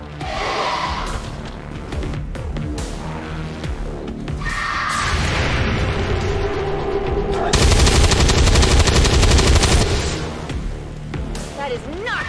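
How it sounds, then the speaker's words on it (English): Heavy gunfire in the tactical game XCOM 2, with bursts of machine-gun fire and loud blasts that build into a dense, sustained barrage, mixed with other game sounds and voices. "Taking fire over here! Taking heavy fire!"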